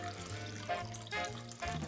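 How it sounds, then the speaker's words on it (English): Chilled Greek rosé sparkling wine poured into a champagne flute, a close, steady fizzing splash that runs for about two seconds with no talking. "add chilled Greek rosé sparkling wine."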